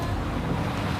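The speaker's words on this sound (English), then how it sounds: "So right now we're getting hammered by the wind and the waves" Strong wind batters the microphone over rough sea waves off Nicaragua, a dense, steady roar of gusts and water with no pauses.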